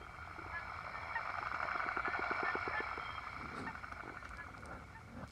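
A toad-sound instrument is played during a live sound healing session with native flutes, producing a rapid croaking rattle of evenly spaced clicks that rises and falls over a few seconds, set against a steady droning tone.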